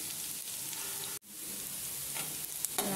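Cauliflower bhaji fritters sizzle steadily in hot oil as they are turned, a close continuous frying hiss broken by one brief dropout and a few sharper crackles near the end.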